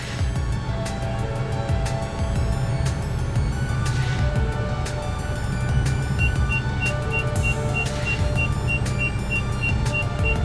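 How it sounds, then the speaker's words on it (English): A car's reversing beeper sounds as it is put into reverse, thin repeating tones standing out over a steady engine idle and road rumble, with the short beep pattern continuing as the car backs up. "you're going to hear one beep when you chuck it in reverse."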